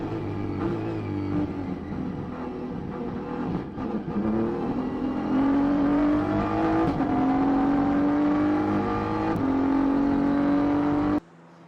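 Race cars lapping the Nürburgring during 24-hour qualifying, with a slow BMW in class SP10 among them; engines rise and shift through gears with climbing whines, loud and close, with a brief passing whoosh.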